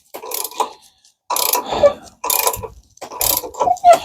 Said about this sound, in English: So I'm going to tighten it down